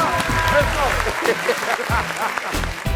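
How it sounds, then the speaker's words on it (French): Audience applause for a performer, a crowd clapping that runs underneath an excited announcer's voice, with talk dominating over the steady clapping. "Un maximum d'applaudissements s'il vous plaît pour Fatou Guinea."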